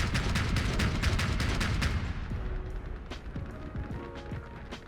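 Gunfire from armed hover vehicles in a Crossout clan war match: a dense, rapid burst of shots up close for about two seconds, then quieter, scattered shots and rumble.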